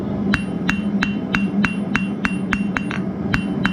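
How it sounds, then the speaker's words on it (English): Hammer blows ring out on a hot steel hook at an anvil while the corners are knocked down, about nine evenly spaced sharp metallic strikes, close and loud over a steady low forge hum. "Knock down your corners and then start moving the material around, hammering in multiple spots."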